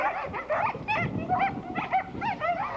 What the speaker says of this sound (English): Little huskies. Before long, they'll be sled dogs.